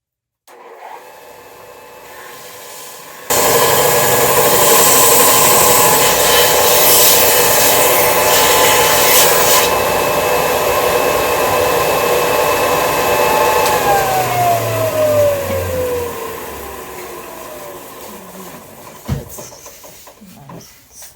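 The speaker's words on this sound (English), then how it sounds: "Now I'm going to clean it up a little bit on the sander." A powered sander smooths a wooden spring sign, starting abruptly after a few seconds as a loud, steady whir with abrasive rubbing, then winding down near the end with a falling tone.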